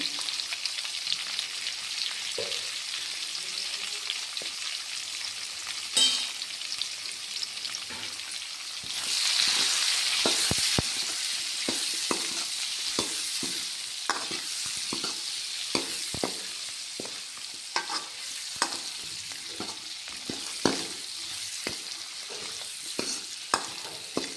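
Cucumber and lentils cook in hot oil with a continuous close sizzle and frequent clicks and scrapes from stirring, the frying briefly growing brighter partway through, with no talking.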